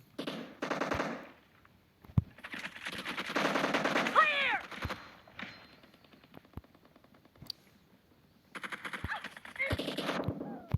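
Bursts of automatic rifle fire in a PUBG firefight, loud rattling volleys separated by quiet gaps, with a few single sharp shots in between.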